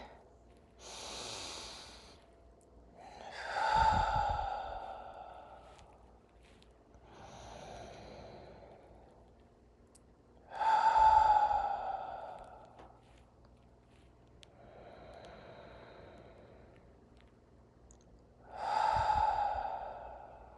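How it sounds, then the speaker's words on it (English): Three slow, deep breaths during a guided relaxation session, each a long audible inhale and exhale, soft and close in an otherwise quiet room. "Take 3 deep breaths."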